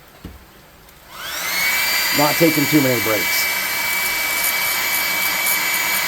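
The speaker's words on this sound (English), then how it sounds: "We're going to hit this stuff with a hairdryer again real quick." A hairdryer switches on and blows steadily with a loud, high whining roar while drying paint on tabletop terrain, as someone talks briefly over it.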